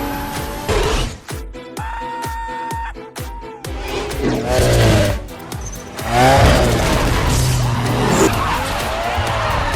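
Race cars, including a Nissan Skyline GT-R R34, skid through a street race with squealing tires and revving engines. The sound is loud and continuous, with sharp chirps early on and sustained screeches later, over a low engine rumble and some mixed voices.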